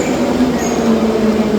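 Metro train running through Tbilisi, Georgia, with a steady loud rumble and a sustained low drone from the carriage, continuous and close throughout, no speech.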